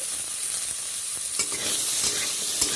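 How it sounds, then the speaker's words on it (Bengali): Potatoes tipped into a frying pan and stirred while making a Bengali-style rui fish curry with onion stalks; a steady close sizzle runs throughout, with scraping stir strokes rising above it. "এবার আমি সব আলুটা দিয়ে দিলাম"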